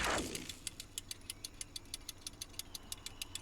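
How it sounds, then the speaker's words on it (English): A timer block in the video game SkySaga clicks in a rapid, steady, even tick, faint and continuous behind a quiet background hum. "So you can hear that kind of slight clicking in the background."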